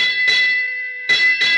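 A ship's bell strikes in a ringing pattern for a radio drama, three clear metallic strokes with a long sustained tone between them, close and loud with no talk.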